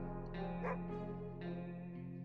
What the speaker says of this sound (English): Oh, I heard a dog bark.